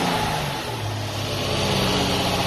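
An Infiniti G35 VQ engine with a new cold air intake is revved in a garage, giving a loud, continuous engine roar that holds steady throughout.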